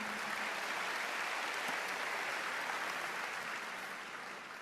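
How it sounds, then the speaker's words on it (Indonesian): A church congregation claps during a sermon, a broad, even wash of applause that holds steady and begins to fade toward the end, heard at a distance with no speech. "Berikan tepuk tangan."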